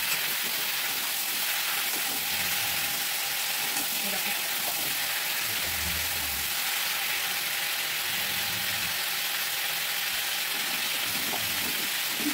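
Mango pieces frying in a pan with salt and turmeric for a sweet, sour and spicy mango pickle give a steady, close sizzle that runs the whole time, with faint stirring.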